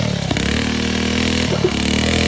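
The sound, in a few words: go kart engine revving with popping valves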